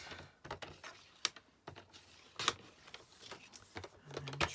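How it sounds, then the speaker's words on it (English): A paper trimmer cutting a small piece of card in a quiet craft setting, a few soft sliding clicks and clacks at close range, faint and intermittent. "And then I just need my trimmer again. We're just going to trim this down."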